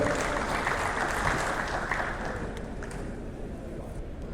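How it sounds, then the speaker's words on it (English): Applause from a panel discussion audience welcoming a speaker, a dense wash of clapping in a large room that is heavy at first and slowly fades toward the end. "A nice round of applause for Mr."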